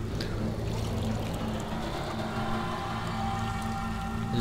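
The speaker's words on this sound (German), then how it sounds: "Ich gieß mir jetzt erstmal Tee ein." Tea being poured into a cup, a steady, continuous liquid pour at moderate volume, close by, with a low background hum and no speech.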